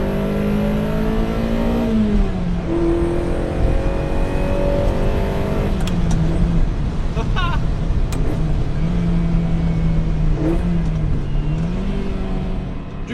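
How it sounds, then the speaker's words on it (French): A Ferrari 308 GTB with a mid-mounted 3-litre V8 drives along sunny Provençal roads, its engine droning steadily throughout and rising and falling in pitch through several revs and gear changes, loud and close from inside the cabin. "je vous embarque avec moi pour une balade provençale sous le soleil en Ferrari 308 avec derrière moi en position centrale arrière un V8 3 litres"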